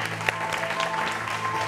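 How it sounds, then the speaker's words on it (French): An audience applauds loudly and steadily for a guest on a live French show, a dense wash of clapping with a faint sustained musical tone beneath. "On va l'applaudir très fort aussi"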